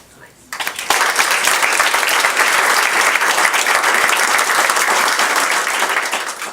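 A large audience bursts into sustained applause at a Board of Education meeting, starting abruptly after a quiet moment and holding loud and even before tapering slightly at the end.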